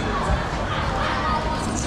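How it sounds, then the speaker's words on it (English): A dense crowd of people walking along Jianghan pedestrian street in Wuhan, China, a steady close wash of footsteps and murmuring voices with no single voice standing out. "We got a lot of people walking around, so I'm just gonna walk right into these crowds of people"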